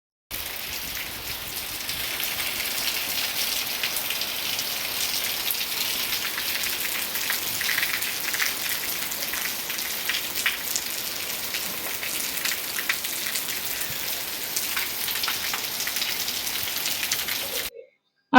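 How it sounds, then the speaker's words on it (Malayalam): Heavy rain falls steadily outside, a dense, even hiss that goes on without a break for the whole stretch. "നല്ല മഴയും പെയ്യുന്നുണ്ട് പുറത്ത്"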